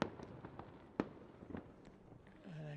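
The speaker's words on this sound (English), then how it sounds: "And there's fireworks going on." Fireworks go off at a youth baseball state tournament game, several sharp distant pops and bangs spaced irregularly, with a low hum rising at the end.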